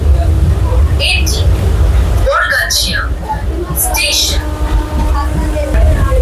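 Amta–Howrah local electric train at Bargachia station, a steady loud rumble of the train running throughout with people talking over it.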